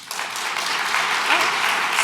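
Audience at a media awards ceremony applauds a special award winner, steady dense clapping filling the hall throughout, close and sustained with no pauses.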